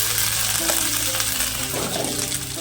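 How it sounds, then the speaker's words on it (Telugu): Grated coconut frying in ghee, a steady broadband sizzle with occasional stirring scrapes throughout, loud and close with no talking. "సో ఈ నెయ్యిలో వేసుకొని మంచిగా ఫ్రై చేసేసుకోవాలి"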